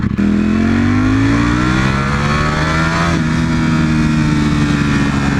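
A V4 motorcycle engine is revved hard at full throttle, a loud close roar whose pitch climbs steadily and holds with a slight dip partway through.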